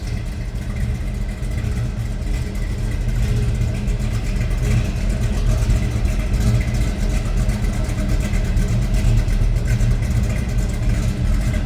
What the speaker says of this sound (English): That's the rumble of a little over 500 horsepower.